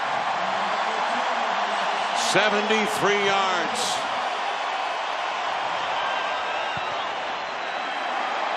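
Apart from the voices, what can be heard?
football stadium crowd cheering after long touchdown run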